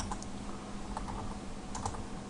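Someone types on a computer keyboard with a quick, steady run of close keystrokes over a constant background hum. No speech.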